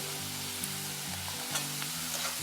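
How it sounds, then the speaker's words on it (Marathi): Drumstick (moringa) pods are added to onion frying in oil and stirred for a Malvani zunka, producing a soft, steady sizzle with light scraping from the spoon and no talk. "आता मी या शेवग्याची शेंगा घालते"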